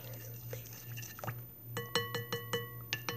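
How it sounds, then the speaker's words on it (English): Slime stirred in a container, giving a string of sharp wet clicks and taps, sparse at first and then quicker and louder over a steady low hum, with no talking. "All you gotta do is mix it."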